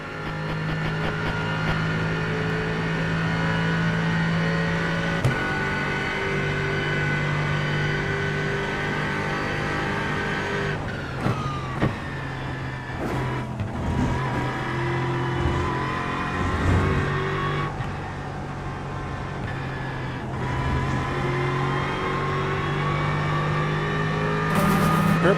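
A race car engine in iRacing holds steady, loud revs with harmonic drone, shifting pitch through gear changes and lifts around the middle, running continuously near and up front throughout.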